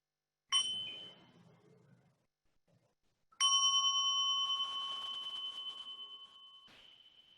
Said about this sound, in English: we'll listen to the sound of the bell